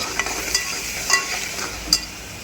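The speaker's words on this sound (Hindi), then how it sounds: "मसाला अच्छे से भून रहा है" Ground coriander, cumin and red chili powder fry in a pan, giving a steady soft sizzle with a few brief stirring scrapes and clicks; close, moderately quiet, no talking.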